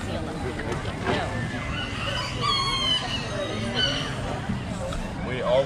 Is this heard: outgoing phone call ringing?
no